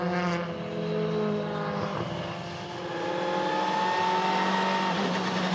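WTCC touring cars circling on the final formation lap of a race in Moscow, Russia, a steady engine drone with rising and falling pitch, continuous and fairly loud with no talk.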